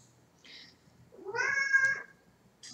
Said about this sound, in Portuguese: O gato chorão chegou.